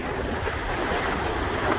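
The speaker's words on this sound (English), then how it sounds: "Out of these 2 waterfalls, this one and the one way up in the mist." Niagara Falls roars as a steady, dense rush of white noise, loud and unbroken throughout, with no voices.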